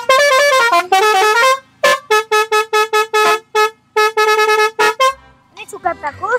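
A musical telolet basuri horn on a truck carrying a compressor and generator, loud and close, playing a melody of sustained tones followed by rapid short toots, then fading into a brief quieter stretch.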